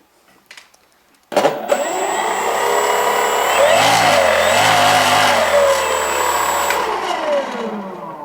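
An RC plane's electric motor starting with a sharp onset and then whining steadily at high throttle, pitch wavering up and down before easing off slightly near the end, loud and close.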